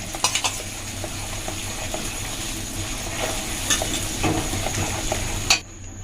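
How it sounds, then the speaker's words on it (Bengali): Seventy grams of butter stirred with a utensil into a caramelized yogurt dessert in a pan over low heat, with soft sizzling and repeated clinks and scrapes against the pan. "এবার এই সময় আমি মাখনটা দিয়ে দেবো আঁচটা কিন্তু খুব জোর থাকবে না সত্তর গ্রাম মাখন"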